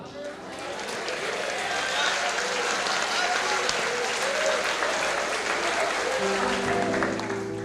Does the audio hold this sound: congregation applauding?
yes